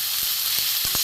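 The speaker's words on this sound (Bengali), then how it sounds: "একটু আলুটা এর সঙ্গে একসাথে ভেজে নেবো।" Potatoes, onion, garlic and tomato frying together in a pan, giving a close, steady hiss and sizzle with a few soft knocks of stirring, no voices.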